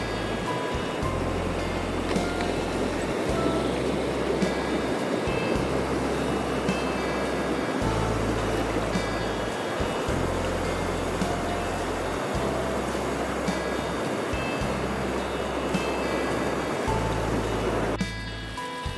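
A creek on a sea-run cutthroat fishing outing rushes steadily with a broad, continuous hiss of flowing water, punctuated by regular low thumps and rumbles throughout, with no voices.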